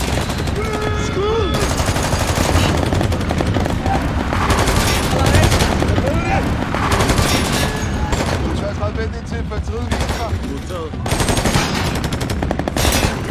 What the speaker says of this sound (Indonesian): Kolding menunggu sinyal agar Anderson bisa menembakkan senapan mesinnya